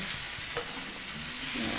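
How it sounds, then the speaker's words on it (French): Quiche filling seasoned with oregano and basil being stirred in a pan, giving a steady close sizzle with soft scraping strokes of the spoon throughout. "Mélanger le tout."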